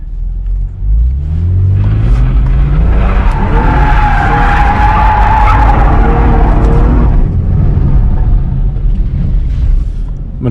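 An automatic V6 Camaro drifts on a race track: tires squeal and skid continuously for about ten seconds, loud and close, while the engine revs and climbs underneath.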